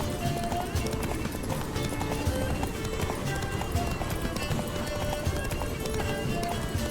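Rapid, steady hoofbeats of a galloping horse in the video game The Witcher 3, close and continuous, with faint bits of speech mixed in.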